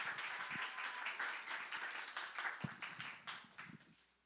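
Applause from a church youth group audience at a winter retreat, welcoming the guest pastor to speak; a steady wash of clapping with a few sharper claps near the front, fading out toward the end.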